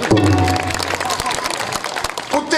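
An audience at a devotional kirtan gathering claps in scattered bursts of sharp hand claps beneath a loud, continuous speaking voice.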